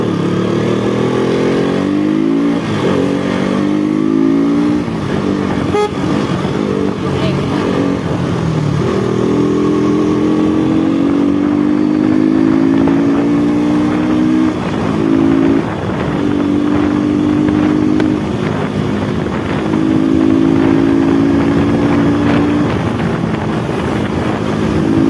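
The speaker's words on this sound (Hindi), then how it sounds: "चलो यार थोड़ा खींचते हैं केटीएम, कितना भागता है भाई।" KTM motorcycle on an open ride, the engine revving and pulling hard through repeated rising gear runs, loud and close, with heavy wind rush buffeting the microphone and no talking.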